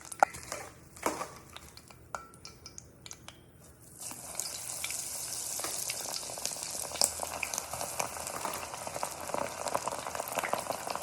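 Shrimp frying in hot oil in a pan, a quiet crackle that swells into a steady loud sizzle after a few seconds, with light clinks of the pan early on.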